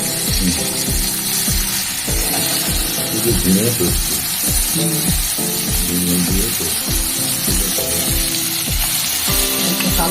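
Black cumin and green chillies sizzling in hot oil, a loud constant crackle with repeated rhythmic scraping or ratcheting strokes throughout.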